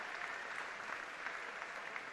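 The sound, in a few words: crowd applauding at climbing competition medal ceremony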